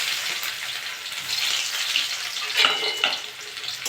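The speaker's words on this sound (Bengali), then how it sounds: "পেঁয়াজ দিয়ে একটু ভেজে নেবো।" Onions frying in hot mustard oil in a pan after whole cumin seeds, a steady close crackling sizzle that runs through the clip with a few sharper pops, no talking.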